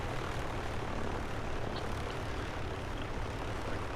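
A single-engine A2A Piper Comanche propeller airplane in a flight simulator game drones steadily with a dense broadband engine roar throughout, no talk heard.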